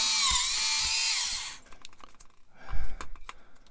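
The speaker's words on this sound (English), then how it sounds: "This is its first drilling stage." Small drill boring holes in a Bandai 1/144 AT-AT plastic model kit, a high whining run for about a second and a half, then stops, followed by scattered clicks and light handling noises.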